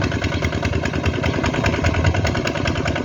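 A rice-paddy puddling tractor's engine chugs steadily and loudly throughout, a continuous rough mechanical rumble with a regular pulsing beat and no voices.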